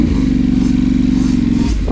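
The engine of a Yamaha YZ65 dirt bike runs nearby with a loud, steady, buzzing drone at an even pitch that dips briefly near the end.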